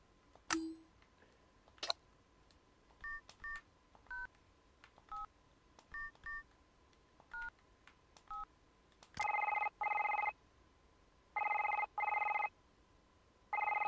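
DTMF keypad tones dialled one by one on a phone in The Lonely Assassins game, followed by bursts of an electronic ringback tone repeating at a steady cadence, clear and alone with no voices.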